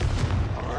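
A Confringo explosive spell blast in Hogwarts Legacy gives a single short, deep boom, brief and fairly loud.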